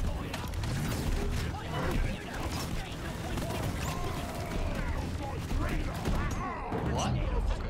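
Gunfire rattles in a Hazard EDD Rapid Gate shooter video game: dense, rapid bursts and overlapping shots with mechanical clatter, loud and continuous for about eight seconds, with voices talking over the fighting.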